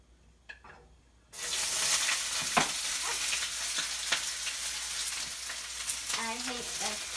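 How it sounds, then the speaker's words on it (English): Onions and peppers hit a hot pan and burst into loud, steady sizzling that continues for several seconds, with a few faint clinks and a brief soft voice in the background. "First, you need to saute the onions and the peppers."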